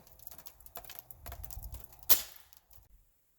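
A single muffled pop from a .357 air rifle fitted with a moderator, close but fairly subdued, following soft rustling and handling noise, then fading into near silence.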